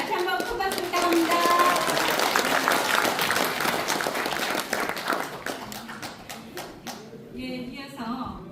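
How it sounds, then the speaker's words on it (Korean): Audience applause at an award ceremony and seminar for elders, steady and dense at first, then thinning toward the end as a voice begins speaking over the scattered clapping. "다시 한번 큰 박수 부탁합니다"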